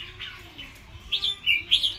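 A wild-caught red-whiskered bulbul (chào mào) sings in a few short bright chirping phrases, clustered near the end, fairly close and moderately loud against a quiet background.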